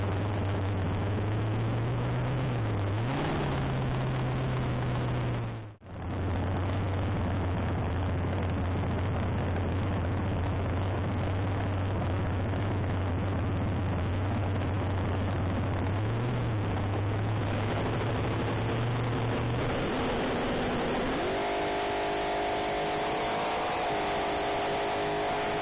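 Nostalgia Dragster engines at the Samoa Beach Bash drag strip roar steadily as cars make a side-by-side run, a loud sustained drone with a brief dropout and rising pitch changes near the end.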